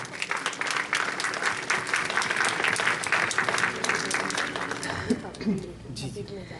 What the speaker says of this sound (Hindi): तो बेशुमार तालियों में उनका इस्तकबाल कीजिए